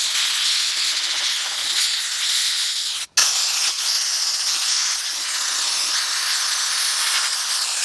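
A Harbor Freight sand blaster sprays abrasive in a loud, continuous gritty hiss close by, broken by one brief cutoff as the valve releases and is squeezed again, then the blast carries on steadily.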